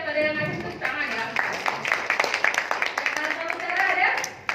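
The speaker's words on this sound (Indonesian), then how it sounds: "tiap ada yang ngasih tepuk tangan ya." Meetup attendees at a remote-work gathering in Jakarta clap in scattered, uneven bursts, with a host's voice talking over and between the claps.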